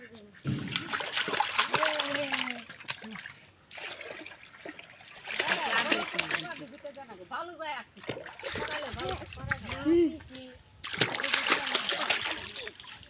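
Water splashes in bursts as a child is bathed, with sloshing and trickling between bouts, while people talk and a voice is heard nearby.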